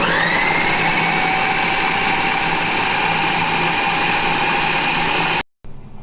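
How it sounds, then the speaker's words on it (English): A kitchen blender mixing banana cake batter whirs loudly and steadily for several seconds, then cuts off abruptly near the end. "I'm now going to mix them together in the blender now."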